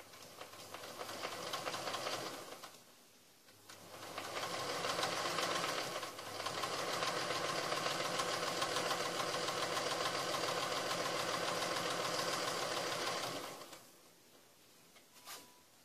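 A Singer 201 sewing machine runs steadily for long stretches while doing ruler-foot quilting, a close, fast mechanical whirr that pauses briefly between runs.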